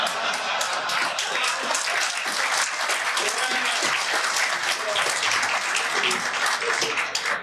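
Dense, continuous applause from an audience at a government signing ceremony on seizing drug traffickers' assets, a loud even wash of many hands clapping with scattered crowd voices beneath.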